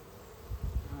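Honey bees buzzing inside an open hive during an inspection after smoking, a faint brief hum that swells slightly toward the end.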